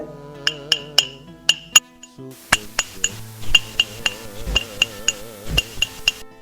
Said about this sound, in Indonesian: kita coba untuk botol ini bisa nggak menghasilkan bunyi yang bagus